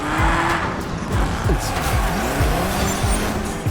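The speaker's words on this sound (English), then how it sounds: "This car drifts and takes corners like no other in the game." A nimble speed car in the Destruction AllStars video game drifts through corners, with loud tire squeals and skids over a revving engine whose pitch sweeps up and down.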